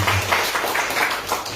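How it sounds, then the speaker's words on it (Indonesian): A church congregation applauds, with continuous, dense clapping from many hands filling the room evenly and loudly for under two seconds. "berikan tepuk tangan untuk Tuhan"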